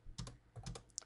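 Fast keystrokes on a computer keyboard while C code is entered, a quick cluster of crisp clicks, close and quiet, with no voice.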